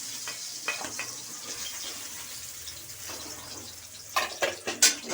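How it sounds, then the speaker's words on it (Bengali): Fish frying in oil in a wok for a Bengali fish curry, a steady close sizzle with scattered stirring and scraping clatter, louder spatters near the end. "এই মাছটা ভাজা হয়ে গেছে, এবার তুলে নিই।"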